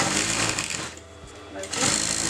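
A sewing machine runs a quarter-inch seam through fabric folded in half for a frock, a loud steady whir that eases briefly in the middle before surging back up.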